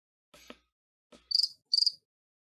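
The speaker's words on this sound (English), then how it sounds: "What are the cricket sounds?" Two short, high trilling cricket chirps come in close succession, bright and fairly loud, following a couple of faint soft rustles.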